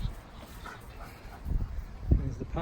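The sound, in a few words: puppies barking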